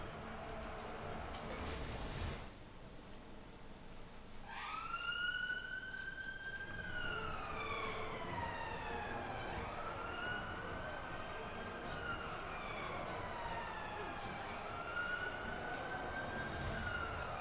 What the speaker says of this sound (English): Holy sirens.